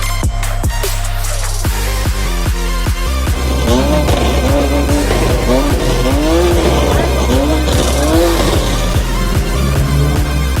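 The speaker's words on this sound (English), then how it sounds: "Intake noise when it launches this" A twin-turbo widebody Lamborghini Huracan launching hard at a motoring festival, loud continuous engine and intake roar with rapid rev rises, turbo whistle and tire squeal, close and dominant throughout.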